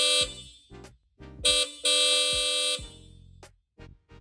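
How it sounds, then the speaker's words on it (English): Hella Supertone horns fitted to a Mercedes Sprinter van blare in several short honks and a couple of longer sustained blasts, loud, close and harmonically rich, with no voices. "I'm going to show you how to install the CAtuned horn kit that comes with hella Supertones"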